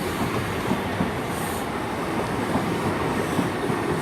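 A passenger train passes at Torre, Torquay, rumbling steadily nearby, with a continuous low roar and faint rhythmic clacking of wheels on track, no voices.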